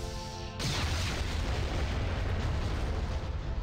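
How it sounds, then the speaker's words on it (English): A warp core explosion in a Star Trek starship game near Deep Space Nine bursts in suddenly after a brief lull, then roars on as a loud, sustained broadband rumble to the end. "we actually survived a warp core explosion"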